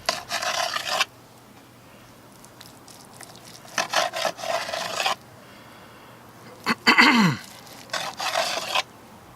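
A knife saws back and forth through smoked brisket in several short bursts of raspy, rubbing strokes separated by brief pauses, close and fairly quiet.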